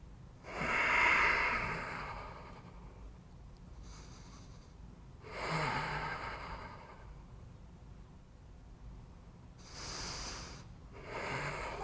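Deep yoga breaths move in and out through the nose in slow, rhythmic waves. Four long inhales and exhales are heard close up, with quiet pauses between them.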